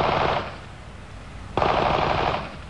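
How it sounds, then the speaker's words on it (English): Two loud bursts of rapid machine gun fire, a sustained crackling volley, then a short lull before a second volley, heard near with no voices. "the incessant crackle of gunfire accompanies the sun to bed"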